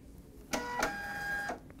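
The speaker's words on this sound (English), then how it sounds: "If I want to print 3 inches of data with a continuous label, I can print it through the printer" A label printer runs continuously, feeding out a length of continuous label stock with a steady mechanical whir and a faint tonal hum. Short clicks mark the start and end of the print.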